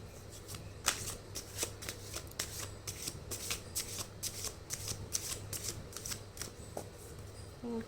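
Tarot cards shuffled and drawn, a string of crisp riffling bursts and light card flicks, close and fairly quiet, with a faint low hum underneath.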